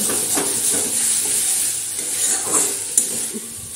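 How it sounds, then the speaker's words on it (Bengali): A spatula stirs fried pointed gourd (potol), already browned alongside fish, around a hot pan, with steady oil sizzle and soft scraping strokes close by and no one talking. "এই পটলটা দিয়ে একটু নেড়ে তারপর একটু গরম জল দিয়ে"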